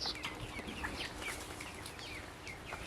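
Chickens roam beneath a jackfruit orchard, making soft scattered clucks and chirps at a moderate distance over a steady outdoor background, with no one speaking.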